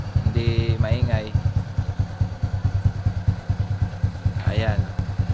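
A Rs125 FI motorcycle fitted with a Podium power pipe exhaust and big elbow idles close by, a steady rapid pulsing putter, with someone talking over it in short bursts.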